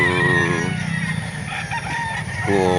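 A gamefowl rooster crows at a poultry market in Calauan, a loud, close, drawn-out call that breaks off and rises again near the end over steady background noise.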